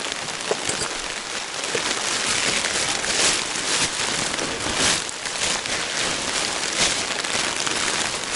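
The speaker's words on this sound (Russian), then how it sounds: "Под ливень попал." A heavy downpour caught while riding a tricycle, now sheltering under a quickly rigged awning: dense, loud, continuous rain drumming and hissing close by, with no break in the pattering and no talk.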